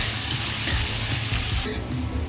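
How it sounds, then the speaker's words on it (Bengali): Garlic fries briefly in oil in a pan, giving a steady, close, crackling sizzle with a low voice faintly underneath. "রসুনটা খুব বেশি ভাজবো না, অল্পই ভাজবো।"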